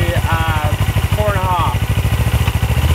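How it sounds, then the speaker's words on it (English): A Suzuki GS500 motorcycle engine idles at 1500 RPM with a rapid, even low putter and slight clatter, close and loud, while someone talks over it. "This is just idle speed at 1500 RPM."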